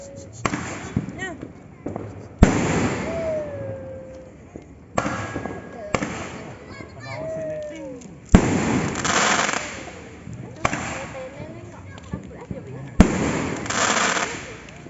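New Year's Eve 2022 fireworks and firecrackers go off in a series of loud sharp bangs and crackling bursts, with whistling rockets rising between them, while people talk nearby.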